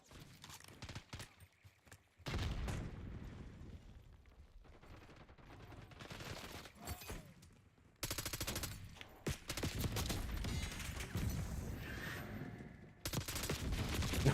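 Video game gunfight with rapid bursts of automatic gunfire and scattered single shots, loud and dense, with brief pauses between volleys and no talk.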